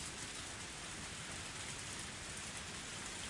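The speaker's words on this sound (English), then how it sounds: "Only the sound of the pouring rain filled up the silence." Heavy pouring rain makes a steady, dense hiss that fills the whole stretch evenly, without pauses or any other sounds.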